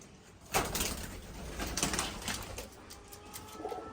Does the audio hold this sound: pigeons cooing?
yes